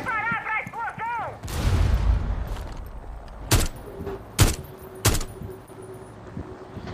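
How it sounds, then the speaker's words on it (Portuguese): Several sharp blasts in a Rainbow Six match, a heavy rumbling boom early on, then three distinct bangs spaced about a second apart, close and loud, with voices heard in the background. "Preparar pra explosão!"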